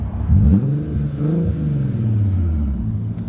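A Volkswagen Passat NMS 3.6 engine revs up and down close by, a deep throaty exhaust rumble rising and falling steadily with no talking.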